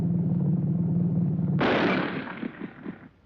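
A Boys Mk.I anti-tank rifle fires a single loud, sharp shot on an old film soundtrack, cutting in after a steady low hum and trailing off into a few echoing thumps.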